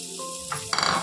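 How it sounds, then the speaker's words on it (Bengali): Onions hit hot oil in a kadai, then a burst of sizzling and spitting swells up loud and close, with a brief scrape of stirring as the frying takes off. "পেঁয়াজটা ভাজতে ভাজতে"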